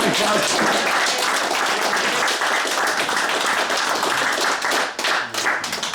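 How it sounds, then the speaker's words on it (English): A regatta prize-giving crowd applauds in a thick, sustained wash of clapping that stays loud and even, with a few voices underneath and a brief dip near the end. "And a big round of applause for"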